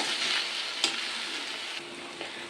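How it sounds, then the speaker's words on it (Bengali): Ginger-garlic paste and onion paste fry in hot oil after fish was fried, giving a steady loud sizzle with a couple of soft stirring knocks and no talking. "ওই তেলেই আদা রসুন বাটা, পেঁয়াজ বাটা দিয়ে দিলাম, দিয়ে ভালো করে ভাজা ভাজা করে নেব"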